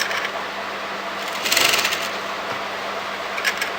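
A sewing machine stitches kurti fabric and lining for a shawl collar, giving a steady, close mechanical whir with a slight rise partway through.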